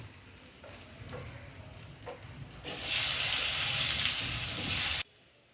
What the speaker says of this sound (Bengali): এই তেলে আমি আলু ভেজে নেব।